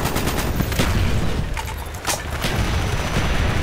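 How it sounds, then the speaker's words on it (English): In the Black Ops video game, a rapid barrage of incoming enemy mortars bursts in dense, booming explosions and crackling gunfire that continue without pause. "Enemy mortars incoming"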